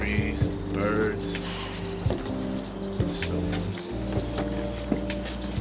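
Backyard birds with trees around, steady repeated chirps and calls alongside an insect-like trill, moderately close, with low voices and occasional soft knocks beneath.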